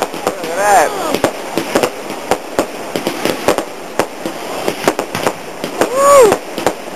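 Bonfire Night fireworks on Ilbert Street in London crackle and pop in rapid bursts nearby, with whistling rockets rising twice and people exclaiming and talking over the loud, continuous barrage.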